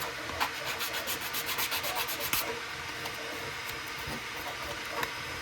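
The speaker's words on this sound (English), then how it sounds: "I'll just file those down just to make them pretty straight and even." File rasping over the edges of a plastic AMT Toyota model car body part to straighten them and clean off burrs, with quick rhythmic close strokes early on, then a quieter steady scrape.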